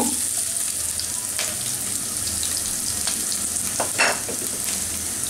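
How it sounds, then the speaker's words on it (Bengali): Eight to ten coarsely chopped garlic cloves fry in hot mustard oil, giving a steady, close sizzle with occasional stirring scrapes and one brief louder crackle near the end. "একটু ভেজে নিব রসুনটা"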